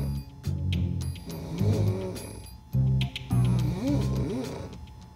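A sleeping woman in a dormitory snores loudly, with several long rasping, rumbling snores in a slow, regular rhythm and short pauses between breaths.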